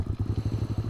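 A strong motorcycle engine runs nearby in a rough, rhythmic idle, its low pulsing beat loud and constant through the short stretch.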